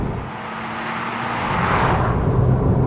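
A Nissan GT-R Nismo sports car drives on a public road. It makes a steady, broad roar that swells a little toward the end, with no voices.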